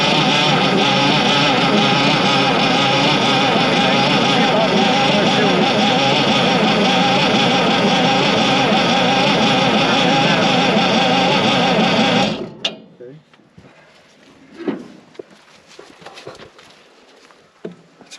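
An International 806 Wheatland tractor that sat for 30 years cranks over with a loud, steady mechanical drone for about twelve seconds, then stops abruptly, leaving faint clicks and handling noises.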